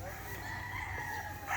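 A gamefowl rooster at a game farm, among stags kept in pens, lets out a single drawn-out crow, clear and fairly close against quiet surroundings.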